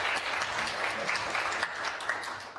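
An audience at a university lecture gives steady, dense applause that holds at an even level from start to finish.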